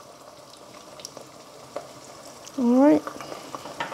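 Onions softening with salt in a pan for chicken curry, a low steady sizzle with light stirring scrapes, close by; a brief spoken remark cuts in midway.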